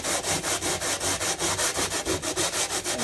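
Wet aluminum foil is rubbed back and forth on a chrome fender of a 1978 Honda CT70, producing a steady rhythmic scrubbing rasp, close and even, with about fifteen strokes and no voices.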